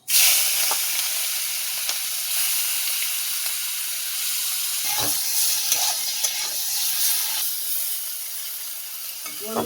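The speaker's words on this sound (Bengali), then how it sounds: "বন্ধুরা ভালো করে চিংড়ি মাছটা ভেজে নেবো লাল লাল করে" Salt-and-turmeric-coated prawns frying in hot oil, a loud continuous sizzle with occasional stirring scrapes and pops, close up and without talk.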